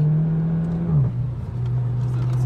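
Seat Leon Cupra 2.0 with 350 hp in Stage 1 tune accelerating, a steady loud engine drone that dips briefly as a gear shifts, then pulls on at a slightly lower pitch, heard close from inside the car.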